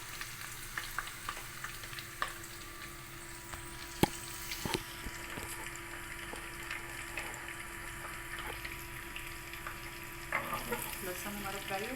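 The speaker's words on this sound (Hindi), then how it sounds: "लहसुन हमारा फ्राई हो गया।" Garlic fries in a pan with a steady hiss, broken by scraping stirs and the clack of a utensil against the pan, heard up close without talk.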